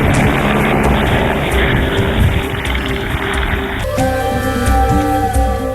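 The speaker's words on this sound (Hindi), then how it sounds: "हम इस समय इस हेलीकॉप्टर में केदारनाथ जा रहे हैं।" A helicopter flying toward Kedarnath in the Himalayas roars with a loud, steady rotor and engine drone heard from inside the cabin, the tone shifting partway through.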